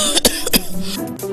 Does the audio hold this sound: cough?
yes